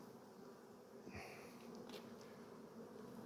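Honeybees buzz around a hive entrance in the evening as they fly out to forage, a faint continuous hum with a few louder passes of individual bees flying close by.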